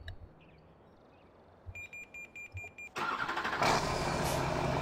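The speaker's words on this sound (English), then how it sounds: "This tractor is quite rather loud compared to some other ones" New Holland tractor in Farming Simulator 2013 starting up: a run of short rhythmic beeps and cranking pulses, then the engine catches into a loud, steady rumbling drone that swells slightly and holds.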